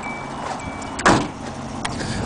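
A Hyundai Accent with a 5-speed manual idles with a low, steady engine hum. A single sharp thump, like a door closing, cuts in near the middle.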